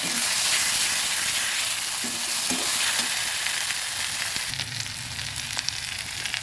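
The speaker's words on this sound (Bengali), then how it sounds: "ভালো করে নেড়ে দিচ্ছি ভালোভাবে মশলা মশলাগুলো ভেজে নিলাম" Spices frying in a pot for a chicken curry with potato, a steady loud sizzle with occasional scraping stirs, no talking.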